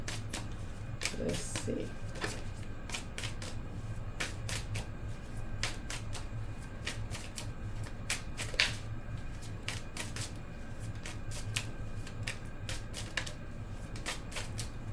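A deck of playing cards is shuffled in a series of quick, dry riffling snaps and taps spread across the whole stretch, while a person speaks briefly over the steady background.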